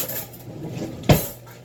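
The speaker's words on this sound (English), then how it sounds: "we're just going to take a regular ass kitchen fork and we're going to mix it up" A metal kitchen fork clinks once against a bowl while mixing guacamole seasoned with garlic salt and onion powder, a single short, fairly close knock over quiet room hiss.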